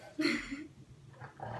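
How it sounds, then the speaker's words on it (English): A dog growls and gives a short bark close by, then lower rumbling growls follow over a noisy background. "if you hear barking, that's Hobson right under us doing that"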